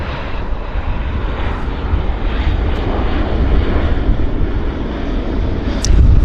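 A Q400 airliner at Vancouver airport gives a loud, steady engine and propeller roar close by with wind buffeting the microphone, unbroken for the whole stretch and rising slightly at the end.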